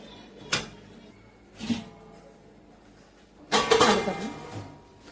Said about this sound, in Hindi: अब मैं इस सब चीजों को अच्छे से मिक्स करूंगी।